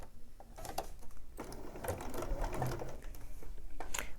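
A sewing machine stitching a quilt, its needle running in close, steady mechanical bursts with brief pauses between runs, no voices.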